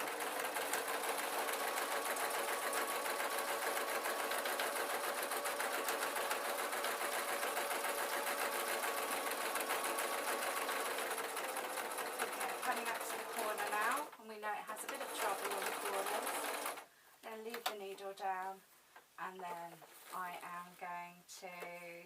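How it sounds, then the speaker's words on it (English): A sewing machine stitches a fabric peg bag in one long, steady whir that runs close and loud before stopping, after which a person talks. "I'm going to tuck this last piece in and sew it from the other side"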